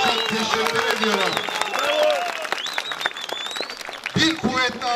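A crowd applauds at the opening of an election campaign office in Alifuatpaşa, sustained clapping with voices and shouts rising over it, loud and close throughout.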